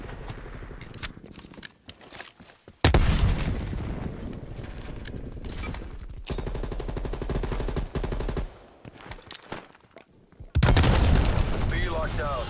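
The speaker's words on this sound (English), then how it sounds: "Throwing grenade." Gunfire and heavy grenade blasts in a Call of Duty: Black Ops Cold War Domination match on the Moscow map, with loud booming bursts between rattling shots and brief voice callouts.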